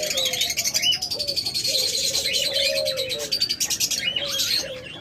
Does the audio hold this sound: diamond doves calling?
yes